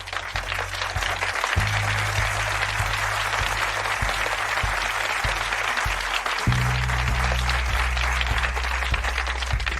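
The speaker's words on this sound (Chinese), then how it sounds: "鼓掌！" A crowd breaks into sustained applause of many clapping hands, steady and fairly loud throughout, while a low musical tone sits underneath.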